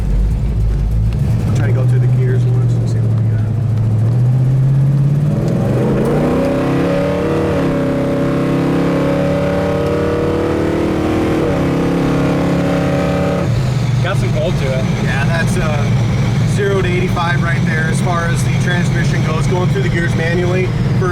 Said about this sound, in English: I'll try to go through the gears once and see what we got.